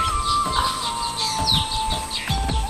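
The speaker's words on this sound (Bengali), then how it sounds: "পাখিরা করতেছে কিচিরমিচির চারদিকে।" Baya weaver birds chirp and twitter around their hanging nests in a tree, a busy chorus of short calls repeating over steady outdoor background, no talking.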